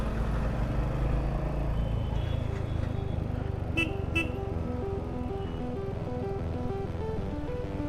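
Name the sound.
city road traffic at night with car horns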